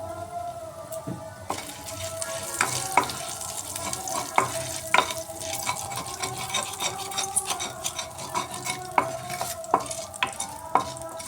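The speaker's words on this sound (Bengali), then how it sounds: "ফোড়নটা ভাজা ভাজা হয়ে আসছে" Cumin seeds, dried red chillies and bay leaves fry in refined oil in a wok as a tempering, with a steady close sizzle broken by repeated scraping stirs of the spoon.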